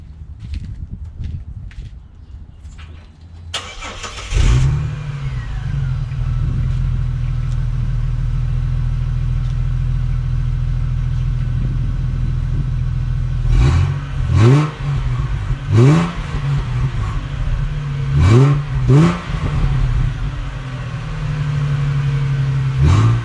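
Ford Territory engine with a newly installed IPV exhaust starts up and settles into a loud, close idle, then is blipped through a series of sharp revs before returning to idle.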